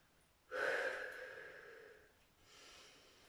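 A single deep, audible breath drawn sharply then slowly released, followed by a softer second breath during a seated biceps-curl exercise, close to the microphone with no talking.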